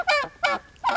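A homestead turkey gobbles three times in quick succession, loud and close, each call a rapid warbling rattle.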